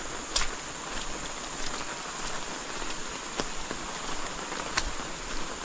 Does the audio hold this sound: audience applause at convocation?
no